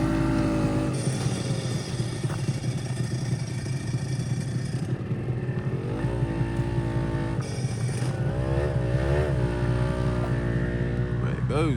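A Honda NSR 250 two-stroke motorcycle leaving a classic car and bike breakfast meet, its engine droning loudly then revving and pulling away, with other engines and voices in the background.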